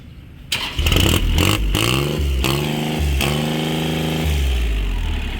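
A Kubota three-cylinder, 36-horsepower diesel tractor engine cranks, catches and settles into a loud, close, chugging idle with a steady low rumble.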